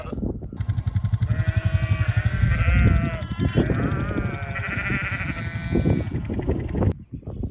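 A flock of sheep bleats continuously while being moved between paddocks, many overlapping calls close and loud over an outdoor rumble, with a ticking electric-fence-like pulse throughout.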